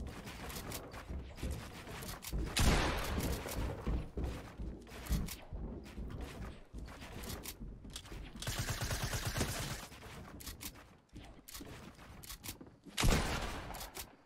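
Pump shotgun blasts echo in a video game firefight, several sharp loud booms spaced among other gunfire, footsteps and clattering game effects across a tense round.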